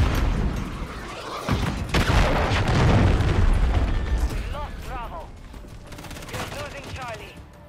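Gunfire in the multiplayer shooter game Modern Warfare 3, loud bursts and booms crowding the first half, then fading to quieter scattered sounds while people talk over it.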